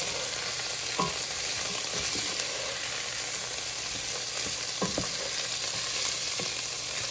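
Chopped baby carrots frying in a pan for a sausage, spinach and white bean soup, a continuous even sizzle with a few soft stirring knocks, close and steady with no talk.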